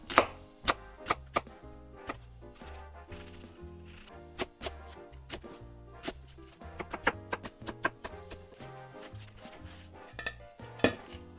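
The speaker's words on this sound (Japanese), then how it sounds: "玉ねぎも1センチ角に切っていきます。" A knife dicing onion into 1 cm cubes on a cutting board, heard as rapid, crisp, close chops in irregular bursts with short pauses, alone without talk.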